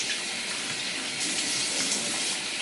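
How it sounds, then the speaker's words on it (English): Tap water running steadily into a sink while someone washes their face, a continuous close hiss of flowing water with no speech. "Hold on, let me wash my face."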